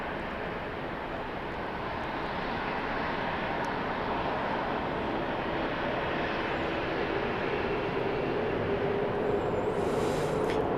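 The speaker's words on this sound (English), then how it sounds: "We have a 737-700 arriving from Orlando, Florida, flight 3238." A Boeing 737-700 airliner arriving from Orlando at Dallas Love Field. Its engine roar is broad and steady throughout, heard from a distance at moderate level, with no clear rise or fall over the stretch.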